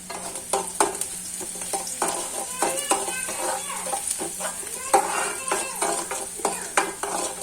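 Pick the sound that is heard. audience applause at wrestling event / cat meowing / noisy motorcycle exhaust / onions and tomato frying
onions and tomato frying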